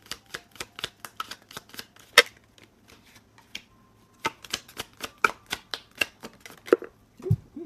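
Pure Love Oracle cards are shuffled and pulled in a quick run of crisp, close riffling snaps and flicks, pausing briefly midway before another burst, with soft card slides at the end.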